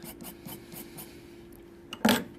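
A tool scrapes into airbrushed paint to pick out fur texture, making a rhythmic run of about five soft close scratching strokes, then one sharper, louder scrape.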